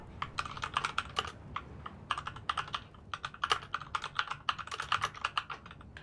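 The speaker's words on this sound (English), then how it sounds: "there's somebody typing extremely loudly out" Someone types loudly and quickly on a computer keyboard, close by, in rapid irregular runs of sharp clicking keystrokes with brief pauses between them.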